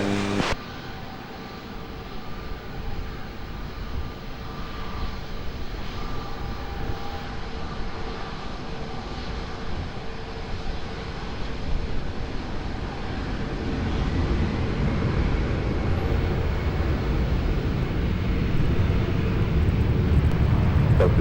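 A fixed-wing airliner takes off at Lisbon Airport, its engine roar broad and steady, swelling louder toward the end as the plane powers down the runway, heard alone without nearby talk.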